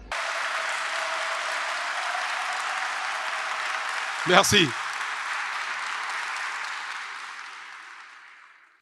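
Audience applause at a political speech, a broad even wash of many clapping hands held at a steady level, briefly broken midway by a man's short spoken remark before fading out at the end.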